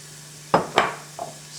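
Shallots being sautéed in olive oil in a pan for a couscous dish: three short, close scraping and sizzling bursts from stirring, the last one softer, over a faint steady hum, with no talking.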